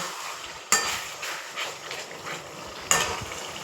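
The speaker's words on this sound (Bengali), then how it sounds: "একটু নাড়াচাড়া করে দিই।" Chicken Manchurian frying in a pan while being stirred, a soft sizzle broken by two sharp spoon-against-pan knocks and lighter scraping between them.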